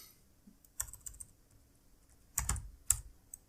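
Keys clatter on a computer keyboard in short bursts of quick, uneven taps with pauses between, close and crisp with no talking.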